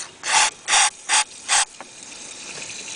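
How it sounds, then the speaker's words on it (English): Four short, forceful bursts of brake cleaner spray near the intake of a Volvo V50 engine with a head gasket fault, evenly spaced and close by, followed by a quiet hiss and stillness. "I will spray some brake cleaner."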